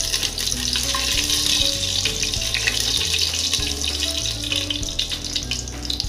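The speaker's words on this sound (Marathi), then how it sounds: "हे सर्व खडे मसाले आपण तेलामध्ये टाकणार आहोत व हे मसाले आपण छान परतून घेऊयात" Whole spices and cardamom sizzle steadily in hot oil, a continuous bright crackle with occasional faint clinks, accompanied by low background music throughout.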